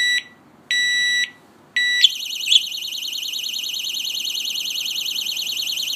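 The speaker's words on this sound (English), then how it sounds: "if somebody moves the lock, the alarm will be triggered and ring for 12 seconds" A Kovix disc lock alarm going off: a few loud, high electronic beeps with short gaps, then a continuous warbling siren tone, close and piercing, with no talk.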